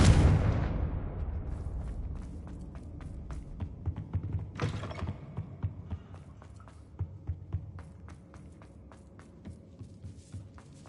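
Magical explosion spells, Bombarda and Confringo, cast in a Hogwarts game: a deep booming blast opens, a second burst follows a few seconds later, then scattered crackling debris and faint clicks fade out under a low hum.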